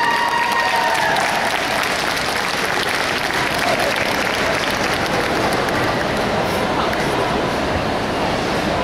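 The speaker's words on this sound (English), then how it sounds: "give a nice hand of applause for each one of these handlers that come out" An indoor crowd at the Crufts dog show applauds handlers and their dogs passing the Bronze Good Citizen award, a dense, continuous roar of clapping at full volume with no let-up.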